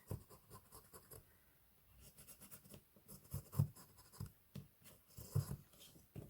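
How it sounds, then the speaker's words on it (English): Pen drawing on a ribbon hair bow, heard as soft, close scratchy strokes in short irregular bursts with brief pauses between them. "I'm going to draw on it"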